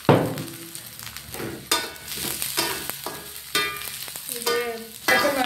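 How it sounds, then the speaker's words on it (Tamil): Onions, green chillies and garlic sizzle in a pan while a spoon stirs them, giving repeated close scraping strokes over a continuous frying crackle. "இதை கொஞ்சம் நேரம் இப்படியே கிளறணும்"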